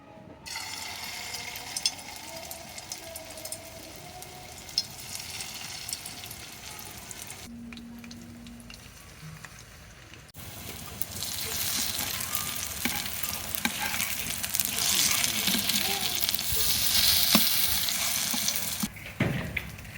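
Oil heats in a wok for frying fritters made with ginger paste, a soft crackling sizzle with occasional clinks that swells into a louder, hissing fry in the second half, with no voices.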